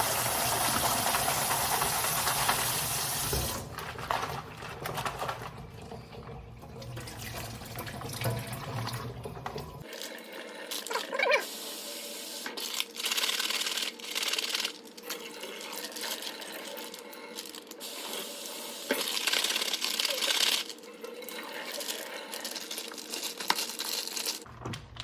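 Tap water runs steadily onto chicken being washed in a home kitchen, a continuous splashing hiss with shifting intensity and some crinkling, no voices heard.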